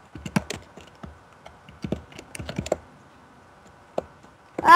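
A computer keyboard being typed on in a game session, with irregular bursts of quick clicks under background hum and a sharp, loud sound at the very end.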